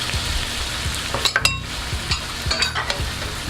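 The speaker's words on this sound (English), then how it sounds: "And then give this a stir." A spoon stirs Peruvian pollo saltado in a hot pan with soy sauce and sherry wine, sizzling steadily close by with irregular metallic scrapes and clanks against the pan.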